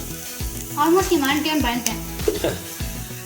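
Food sautéing in a pan on the stove, with a steady close sizzle and a few stirring scrapes, and some background voices over music.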